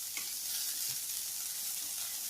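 Carrots sautéed and stirred in a pan over a middle flame make a steady, even sizzle that holds throughout, with a few faint scrapes of the spoon underneath.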